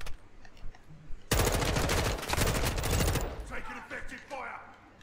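Sustained automatic gunfire from Modern Warfare II in the DMZ, a loud rattling burst that starts abruptly and hammers on for about two seconds before fading into scattered shots, with a voice talking underneath.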